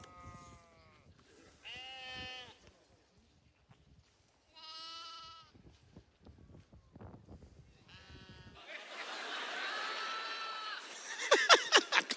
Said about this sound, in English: this is a video of how smart a sheep in trouble is